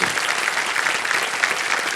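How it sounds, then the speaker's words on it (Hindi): Studio audience applauding on a television quiz show, a dense, steady wash of many hands clapping at full strength throughout, close and loud with no talk over it. "एक बार फिर तालियां बज जाएं।"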